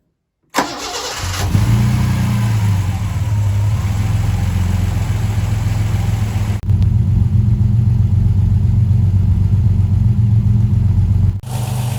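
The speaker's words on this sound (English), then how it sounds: "As you can hear, the engine is running really nicely." A Ford Capri 2.8 Injection fires up abruptly and settles into a loud, steady low rumble, running smoothly and close by with a slight shift in tone midway, no voices over it.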